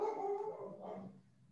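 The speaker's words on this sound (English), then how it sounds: "Dog's howling in the background." A dog howls in the background of an online meeting, one drawn-out wavering howl that tails off into a lower whine, faint and distant.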